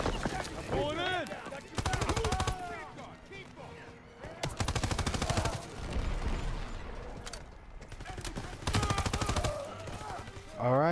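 Bursts of automatic rifle fire in the shooter game Call of Duty WWII, several separate volleys of rapid shots spread across a battle scene, with voices and shouting in between.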